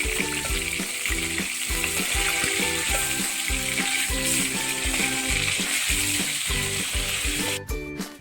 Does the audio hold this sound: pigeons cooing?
no